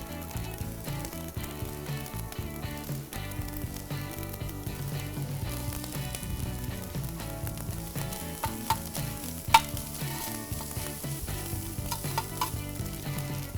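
Onion and carrot frying on a REC TEC grill griddle with rice for fried rice, a steady soft sizzle with faint stirring and scraping scrapes and one brief clink, no talk.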